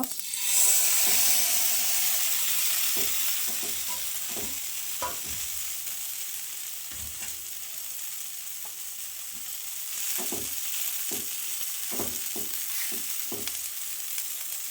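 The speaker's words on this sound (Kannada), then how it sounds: "ಈಗ ಇದನ್ನು ಹಾಗೆ ಫ್ರೈ ಮಾಡ್ಕೋಬೇಕು" Masala-coated fish fries in coconut oil on a hot pan, giving a steady, loud sizzle throughout, with occasional soft clicks and scrapes of a spatula.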